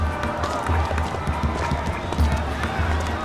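A crowd at a street protest in the video game 1979 Revolution: Black Friday, a dense murmur of many voices with shuffling movement and scattered claps, with nearer speech over it.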